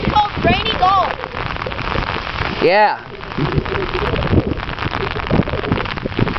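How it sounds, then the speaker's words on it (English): Steady rain pours on a beach during a casual golf game, a dense close hiss of drops with wind, while people talk and one voice briefly speaks over it. "Because it's raining."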